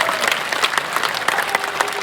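An audience at a Hindi poetry recital claps loudly and steadily, dense applause filling the whole moment without a break.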